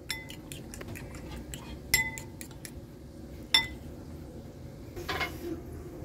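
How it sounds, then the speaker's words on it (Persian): A fork whisking eggs in a bowl makes a series of quick, light metallic clinks and taps, close and fairly faint, over a low kitchen background hum. "با یه چنگال تخم مرغ رو هم میزنیم."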